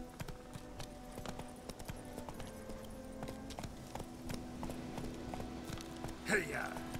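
Hooves of the horse Roach clip-clop steadily while galloping in The Witcher 3, a continuous rhythmic patter under game ambience with a brief louder whoosh near the end, and someone talking over it.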